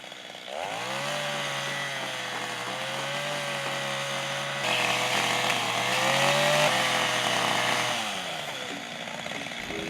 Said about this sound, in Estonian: Sisuliselt testisin, et kas saag läheb palgist läbi või jääb kuskil pidama ka.